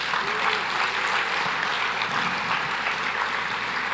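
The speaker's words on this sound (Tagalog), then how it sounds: "pwedeng pumalakpak ng malakas." A church congregation clapping loudly during a worship service, sustained dense applause at an even level with a low hum beneath, no talking over it.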